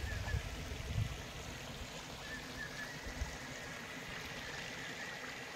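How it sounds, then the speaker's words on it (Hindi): Rushing water at Gandahati waterfall makes a steady, faint broadband roar that continues without a break, with a few soft low bumps and no voices. "यहाँ का पानी का जोर"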